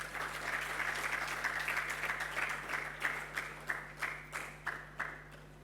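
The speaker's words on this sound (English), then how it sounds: "And I think that deserves an applause." A gathered audience at a political movement meeting claps in applause, moderately distant with a steady mains hum underneath; the clapping starts as a dense patter and turns into slower, spaced rhythmic claps toward the end.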